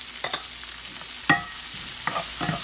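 Chopped celery stirred in a hot pan, giving a soft steady sizzle broken by a few sharp scrapes and clacks of the spoon against the pan.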